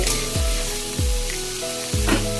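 Potatoes and onions fry in a pan for a fish curry, giving a steady close sizzle with a few sharp stirring scrapes. No one speaks, and a faint tonal layer runs underneath.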